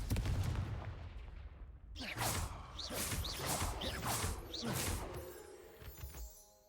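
Confringo fire-blast spell cast in the video game Hogwarts Legacy, a sudden burst at about two seconds opening into a series of crackling, whooshing impacts and rumble that fade out over several seconds, with a faint voice early on.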